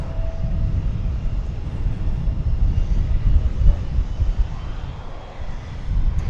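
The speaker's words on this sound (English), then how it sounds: "It's an Airbus A319, and it is our next arrival on Runway DFW" An American Airlines Airbus A319 arriving at DFW airport gives a steady, broadband engine roar and rumble at moderate distance, sustained throughout with a faint tonal whine early on.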